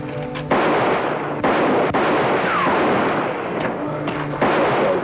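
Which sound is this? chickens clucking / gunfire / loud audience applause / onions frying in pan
gunfire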